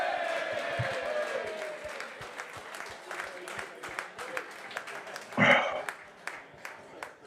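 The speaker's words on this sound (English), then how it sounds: "Give him a round of applause, everyone." Studio audience at a rugby preview show for the Lions versus South Africa second test applauds a departing guest, a dense patter of clapping with voices talking over it.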